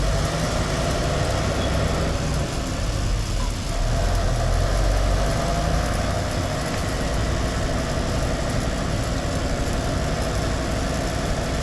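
Congested street traffic waits at a traffic light, with car and engine noise forming a loud, steady, close rumble throughout. No one speaks.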